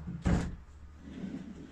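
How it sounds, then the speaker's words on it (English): Pocket door on a 2009 Wildcat 30 LSWB fifth-wheel RV at the master bedroom, giving one short, close, fairly loud thump or knock as it slides and meets its stop, followed by quiet room tone with faint low rumble. "you'll find a nice little pocket door"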